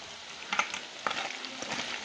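Chicken curry masala is stirred in a pan, a soft sizzle with a few light scraping strokes, faint and close with no talking.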